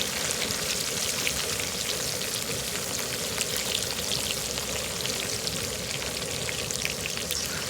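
Pork patties fry on a Southwest Disk griddle with a dense, constant sizzle and crackle that sounds like heavy rain, loud and close, with no voices over it.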